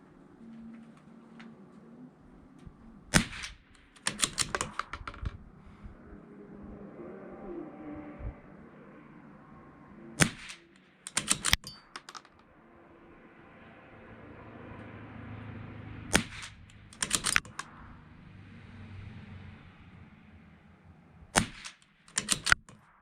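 A CZ 457 rifle firing Lapua Biathlon Xtreme ammunition, sharp isolated cracks in small spaced groups against quiet outdoor background hiss, with no talking.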